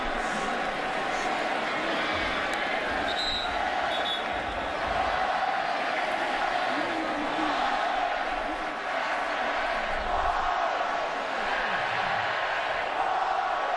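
Dense stadium crowd at a Texas college football game in Austin against Kansas State, cheering loudly and continuously as a broad roar with scattered whoops, steady throughout with no break.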